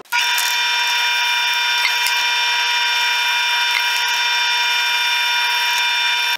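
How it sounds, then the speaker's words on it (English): A power drill whines at a high, steady pitch without a break, loud and close, with faint knocks of the bit biting into wood while drilling screw holes for a rustic beer caddy. "I'm going to drill all the holes for the screws"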